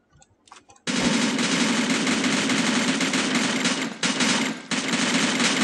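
Rapid automatic gunfire from the shooter game Free Fire rattles in a long, loud, unbroken burst after a few brief soft sounds, with two short pauses before firing resumes.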